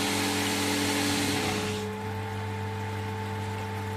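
A PRm405 multistage centrifugal pump runs with a steady electric hum and strong tonal drone, plus a rushing wash of flow noise that drops away after about two seconds, leaving the even motor tone.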